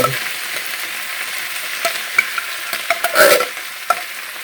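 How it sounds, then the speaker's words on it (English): Thick canned Manwich sloppy joe sauce slides and plops into a cooking pot, with a sizzling background, soft wet splats and a few sharp clinks of cans and utensils nearby. "Now the rest of it is just a matter of throwing it in the pot."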